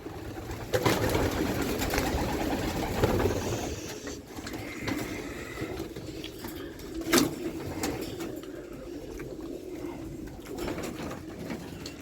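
Racing pigeons coo steadily at a loft, a soft continuous murmur of several birds with a brief louder flutter or knock partway through, no talk over it.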